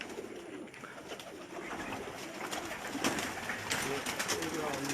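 Teddy pigeons coo softly at a distance against a dense, steady background hiss, with people talking faintly in the background throughout.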